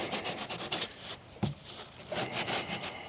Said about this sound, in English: I'm just gonna start off with a 100 grit, just a orbital sandpaper